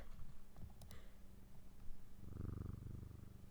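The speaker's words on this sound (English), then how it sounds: "Cat." A cat purrs with a low, soft rumble that swells near the end, faint and close, after a few light clicks at the start.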